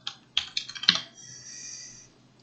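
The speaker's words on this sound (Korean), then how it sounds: "키보드를 사용합니다." Someone types on a computer keyboard, a short run of crisp, close key clicks, irregular and quiet, followed by a faint fading hiss.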